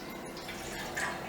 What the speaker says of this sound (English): now the water goes into the pot